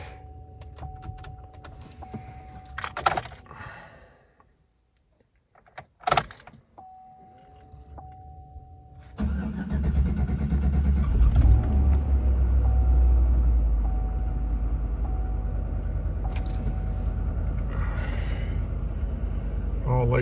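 A Chevy Avalanche fitted with a new fuel pump cranks and then catches, settling into a loud, steady engine idle after some earlier clicks and quiet pauses, with occasional voices nearby.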